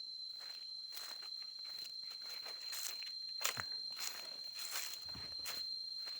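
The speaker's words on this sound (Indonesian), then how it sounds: "Udah ciri khas nih sobat, suara tonggeret." Cicadas (tonggeret) buzz with a steady high whine in a village coffee plantation while footsteps crunch and rustle through dry leaves close by.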